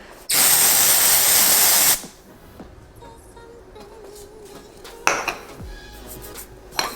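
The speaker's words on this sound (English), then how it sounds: "the next one that I'm going to try is the Dove Brunette Tint Dry Shampoo" Dove Brunette Tint dry shampoo sprayed from an aerosol can in one steady, loud hiss lasting under two seconds, followed by faint handling clicks and rustling.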